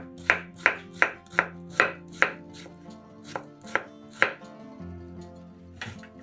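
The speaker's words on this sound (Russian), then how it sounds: "Нарезаем кубиками огурец." Crisp knife strikes on a cutting board as a fresh cucumber is cut into cubes, a quick, uneven series of a dozen or so sharp chops close up with brief pauses, no talking.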